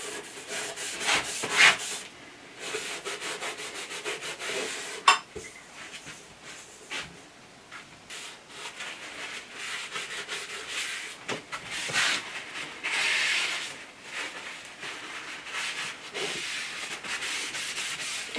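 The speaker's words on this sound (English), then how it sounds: "apart from the file that I'm just trimming the edges with" A hand file rasps back and forth along the edges of a cast iron part in repeated rubbing strokes, close and moderately loud, with a brief sharp knock partway through.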